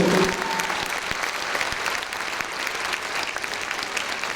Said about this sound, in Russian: ваши громогласные аплодисменты